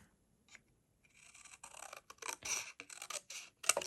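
Scissors snip through paper while trimming pieces for a mini booklet and file folder craft, a run of close, crisp cutting strokes after a short quiet start, with a sharp final snip.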